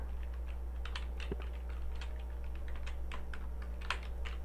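Rapid, uneven keystrokes clatter on a stiff computer keyboard while HTML code is entered, clicks fairly close over a low steady electrical hum, no voices.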